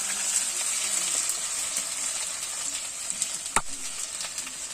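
Garlic fries in hot oil at the start of a meat curry, giving a continuous bright sizzle with a few faint utensil taps, close and alone.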